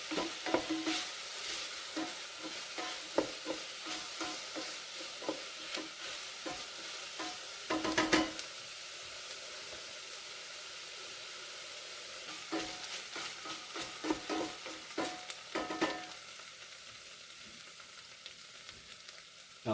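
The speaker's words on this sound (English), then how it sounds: "I'm going to let this saute down just a little bit," Pancetta sautés in the pot of an Instant Pot Mini, a soft sizzling hiss broken by repeated scraping and stirring strokes, some bursts close and sharp, with no talk.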